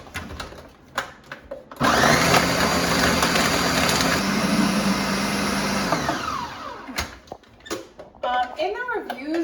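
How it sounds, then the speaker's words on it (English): A countertop blender blending a peanut butter banana smoothie roars loudly for about four seconds, then winds down, with scattered clicks and handling noises before and after. "And then blending some more."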